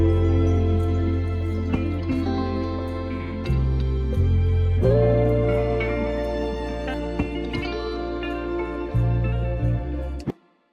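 A dense, loud hip-hop sample loop plays continuously, with deep bass notes shifting beneath layered melodic parts and percussive hits, ending abruptly.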